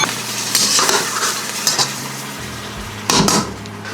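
Beef stir-frying in a pan with a sauce mixture added: clinking of utensil against the pan and scraping stirs over a soft sizzle, with a couple of sharper metallic knocks, close and moderately loud.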